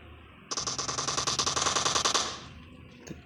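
Rapid automatic fire from an SK12 shotgun in a video game, a dense burst of about twenty quick, loud, evenly spaced shots lasting nearly two seconds, then a single faint shot.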